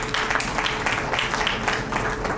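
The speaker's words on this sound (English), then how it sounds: "big round of applause for yourself" Indoor audience at a medical conference in a hotel hall claps steadily for a couple of seconds, a dense even patter of many hands without pauses.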